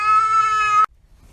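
A cat lets out one long, loud, wavering yowl up close that cuts off sharply, leaving near silence. It's reacting to someone coming home smelling of another cat.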